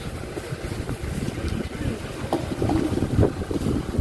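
Gusty wind at an outdoor market rushes steadily across the microphone, rumbling and buffeting throughout, with faint voices from the market mixed underneath.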